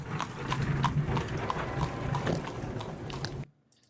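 Horse hooves clip-clop steadily on a hard street amid a busy London-style ambience, a continuous rhythmic trot that runs loud and close before cutting out abruptly near the end.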